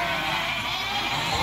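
Sheep and lambs bleating together while the ewes feed, a dense continuous chorus of overlapping calls filling the whole short stretch.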